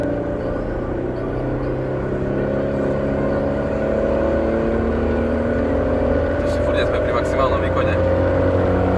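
Mercedes-Benz E320 W210 engine under full throttle, a loud, continuous rising drone close by with steadily climbing pitch for the whole stretch.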